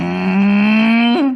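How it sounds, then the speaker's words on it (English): A boy lets out a long, loud, sustained burp with a steady rising pitch that breaks and tails off near the end, close and alone without talk. "let's see your super burp"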